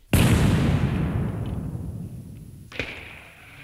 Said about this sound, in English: Even some handguns and grenades and other types of explosives.